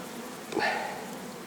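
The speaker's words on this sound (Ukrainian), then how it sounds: "Зараз будемо перевіряти вулик." Honeybees hum near an open beehive in a brief rising buzz, one insect passing close for a moment above faint steady background hum.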